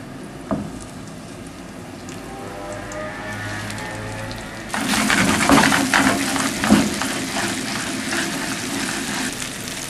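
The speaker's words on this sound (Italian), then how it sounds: "quando l'olio è sufficientemente caldo iniziate a mettere o coronilla dal lato della pelle che va proprio sull'olio" Stockfish fillets laid skin-side down into hot oil, with a quieter stretch giving way midway to a loud, dense sizzle and crackle that holds steady to the end.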